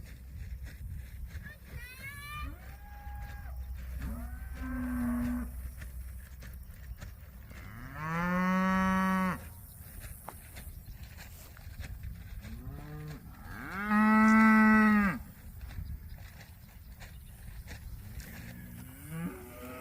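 Cows moo several times across an open field, some long and loud, others fainter and farther off, with wind rumble in between.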